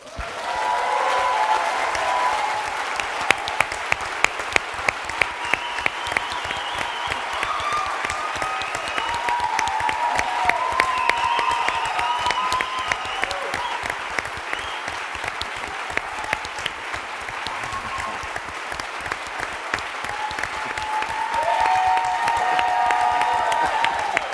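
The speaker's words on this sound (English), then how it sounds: "look at Daniel, clap our hands, and fill up his love cup" An audience at a talk on neuroinclusion stands and claps for a long stretch, a steady crowd applause with sharp individual claps poking out and a few faint voices or cheers mixed in.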